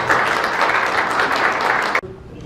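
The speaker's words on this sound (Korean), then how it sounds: "임종성 의원님을 뜨거운 박수로 환영해 주시면 감사하겠습니다." Audience applause welcoming a Korean National Assembly member at a community gathering, sustained clapping for about two seconds that cuts off abruptly, leaving quiet room tone.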